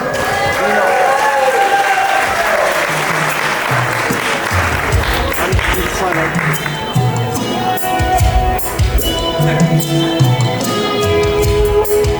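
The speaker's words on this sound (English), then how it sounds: "how about a big round of applause for Joe and Mom?" Wedding guests applaud a groom and his mother on a reception dance floor, a loud, sustained wash of clapping from the crowd that keeps going throughout, with a few cheers and scattered voices mixed in.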